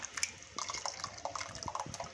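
Water poured into a thick amti curry in a pan, a close, light splashing and trickling with small irregular plops over a couple of seconds.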